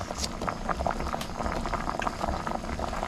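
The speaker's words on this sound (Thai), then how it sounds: "นี่นี่หม้อแกงเดือดแล้วนะครับ" A pot of Thai mushroom curry with okra and cha muang leaves boiling hard, with a steady, dense bubbling and gurgling that stays close and constant throughout, with no talk.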